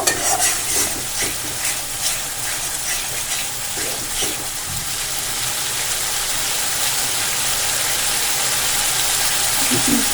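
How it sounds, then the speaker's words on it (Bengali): Spice masala for matar paneer fries on a medium flame while being stirred, with spoon scrapes and strokes in the first few seconds over a continuous close sizzle that grows slightly louder. "2 থেকে 3 মিনিট এইভাবে একটু মিডিয়াম ফ্লেমে রেখে আমি মশলা নাড়াচাড়া করে নেব"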